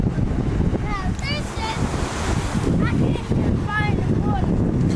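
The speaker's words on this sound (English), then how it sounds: "And the water coming in. Look at it." Ocean waves wash in against a rocky shore amid strong wind buffeting the microphone, a loud continuous roar with surges, while people talk nearby.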